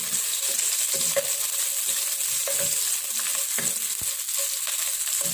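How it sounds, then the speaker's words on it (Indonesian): Shallots and garlic sizzle steadily in hot vegetable oil while being stirred, a loud close frying hiss with occasional scraping stir sounds and no talk. "ini minyak sudah panas, kita tumis dulu bawang merah"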